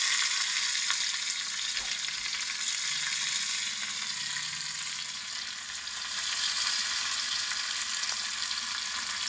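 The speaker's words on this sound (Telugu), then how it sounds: "ఈ ఆయిల్లో వేగితే చాలా అంటే చాలా బాగుంటుంది పచ్చిమిర్చి." Green chillies frying in hot oil with fenugreek seeds, a steady bright sizzle that holds throughout with brief stirring scrapes, close and continuous, no voices.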